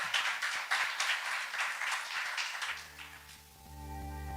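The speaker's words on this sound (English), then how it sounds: "can we give a round of applause to Lucy doing the sound, the video, everything" An audience at a live games talks event in Dundee claps for Lucy, a steady round of applause for about two and a half seconds that fades out as a low hum and soft tonal music take over.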